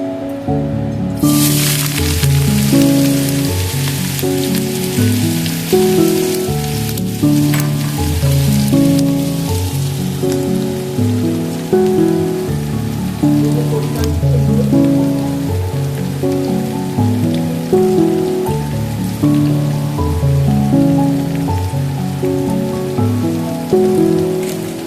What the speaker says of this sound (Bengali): আলুর খোসাটাকে আমি ভালো করে ভাজবো